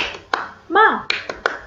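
Children at a school lesson do a rhythmic spirit clap, sharp separate claps in a short pattern with a voice chanting between them, the claps close and crisp.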